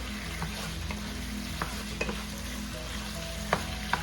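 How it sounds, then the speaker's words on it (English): Pork chunks sauté on high heat for menudo, a steady close frying sizzle with a few sharp clicks and scrapes of stirring scattered through, no voices. "We're sauteing it until it dries up, all right? That's why we have it on high heat."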